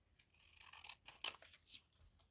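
Scissors snip through strips of old magazine paper in a few quick, close cuts with soft rustling between them, and nobody speaks.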